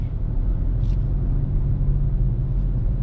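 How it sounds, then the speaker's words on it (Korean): A car creeps slowly into a narrow ramp entrance while the driver eases on and off the accelerator, giving a steady low engine rumble with road noise throughout and no clear revving bursts. "이제 가속페달만 아까처럼 뗐다 밟았다 하면서 들어가는 거예요"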